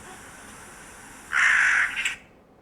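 An American crow gives a loud, harsh caw with a second ragged call right after it, close and clear over a quiet background hiss.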